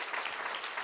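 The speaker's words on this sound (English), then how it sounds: "And this clapping is really for Mr. Park and the leadership team of Atomy" Audience clapping at an Atomy company event, a dense, steady wash of many hands applauding at moderate loudness with no voices.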